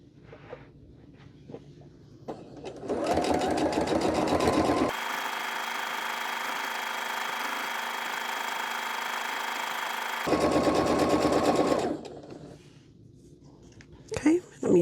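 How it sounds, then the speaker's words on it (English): A domestic sewing machine stitches a quilt block in two steady bursts, a long even whir between them, close and clear with brief talk before and after. "we're going to sew back down on the other side"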